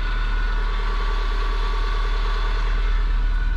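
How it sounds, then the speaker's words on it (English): A Honda Civic wagon engine with a four-wheel-drive setup idles steadily with a low, even rumble that holds constant throughout, close by and with no voices. "So I'm going to sit here and let it idle for just a hair longer."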